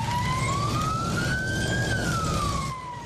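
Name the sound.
curfew siren sounding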